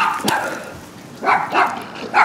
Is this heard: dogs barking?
yes